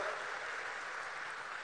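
A crowd at a public government event in a tea-garden area of Assam applauds, a dense, steady clapping that fills the whole moment without a break.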